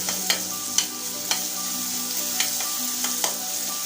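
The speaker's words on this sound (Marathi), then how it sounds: "आणि हा तेलात परतून घ्यायचा आहे सोनेरी रंगाचा होईपर्यंत" Finely ground garlic frying in oil while being stirred for an amaranth greens dish, a continuous sizzle punctuated by several sharp spatula taps against the pan.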